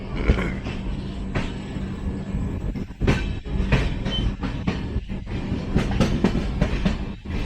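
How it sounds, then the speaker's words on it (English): Netravati Special passenger train pulling away from Shervatur station and gathering pace, with steady low rumble and repeated rhythmic clickety-clack of wheels over rail joints, loud and close from on board. "So finally we depart from Shervatur after being overtaken."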